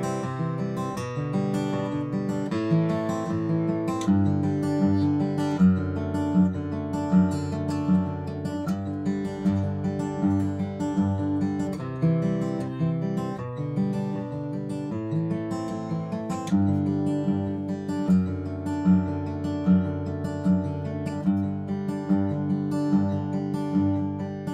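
An acoustic guitar plays a fingerpicking pattern with a changed string grouping, a steady, flowing cascade of picked notes over alternating bass moving through chord changes, close and clear with no talk throughout.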